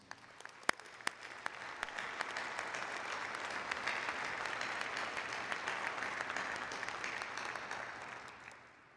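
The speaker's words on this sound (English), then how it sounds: "I think we owe you all a very loud round of applause." Audience applause at a university graduation ceremony, beginning with a few distinct claps that swell into a dense, steady clapping roar, heard from a distance in a large hall before tapering off at the end.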